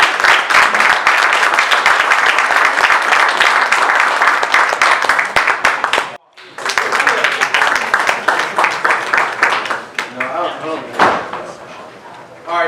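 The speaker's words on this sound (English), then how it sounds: "let's give them a big round of applause." Audience at a RE/MAX real estate event bursts into loud, sustained applause with dense clapping, a brief drop near the middle, then more clapping and some cheering before a voice returns.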